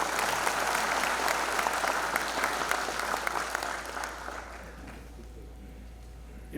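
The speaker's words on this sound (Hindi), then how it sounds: "एक जोर से ताली हो जाएगी।" Loud, dense applause from a university audience at a ceremony with the Governor of Uttarakhand, clapping strongly at first and then tapering off to quiet.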